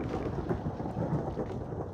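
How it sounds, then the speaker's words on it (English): A Minecraft thunderstorm: dense, steady rain hiss with deep rolling thunder rumbling underneath, continuous and fairly loud throughout, with no voices. "you get a lot of thunderstorms here"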